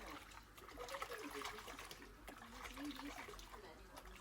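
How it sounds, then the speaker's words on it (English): Hot water poured into a bowl for soaking yarn trickles and splashes steadily for several seconds, close and fairly quiet, with a person talking over it. "Then add hot water"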